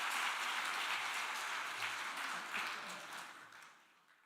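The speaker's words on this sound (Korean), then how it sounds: "다시 한 번 더 박수로 감사를 표하도록 하겠습니다" An audience applauds after a lecture at a church general assembly session, a soft, steady wash of clapping that holds for a few seconds and then fades away.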